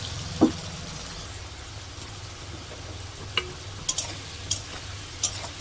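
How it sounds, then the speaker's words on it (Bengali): Potatoes fry in mustard oil with a soft, steady low sizzle, broken by a few sharp clicks of a spoon stirring in the pan. "এবার এর মধ্যে আমি মোচার মধ্যে যে আলুগুলো দেবো সেই আলুগুলো ভেজে নেব।"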